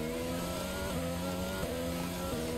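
Engine whine of a racing car from F1 22, steady high-pitched harmonics with shifting pitch as it slides and skids, loud and close, no talk over it.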